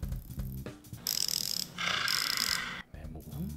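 A Ko-ken ratchet handle, noted for its low free-spin torque, spins freely, giving bursts of fast fine clicking up close, with brief pauses between spins and some handling noise.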